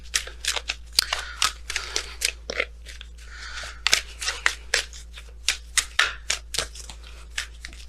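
Messenger Oracle cards are shuffled by hand during a tarot reading, giving a close series of crisp riffling and snapping flutters in an uneven, quick rhythm with no talk.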